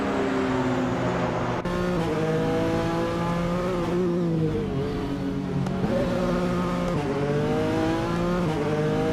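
Several race cars including a Porsche 919 Hybrid howl along a circuit, engines holding steady high revs with rising and falling pitch as they pass and shift, loud and continuous with no talk.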